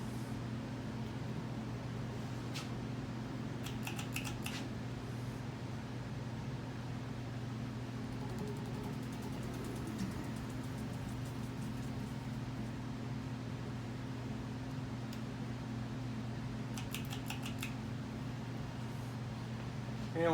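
Steady hum of an S.M.C. Royal Flush 42-inch ceiling fan running under an open rafter ceiling, a constant low drone with faint motor whine and a few soft ticks, no voices.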